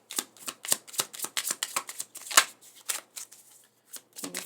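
Tarot cards are shuffled and drawn by hand, a quick run of crisp riffling slaps and flicks, close and fairly loud, with brief pauses between bursts.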